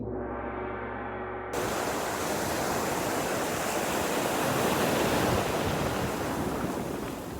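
Ocean waves surge at high tide onto a rocky Cape Breton beach in a steady, loud, broadband roar with heavy wind rumble. A brief tonal hum at the start cuts off abruptly.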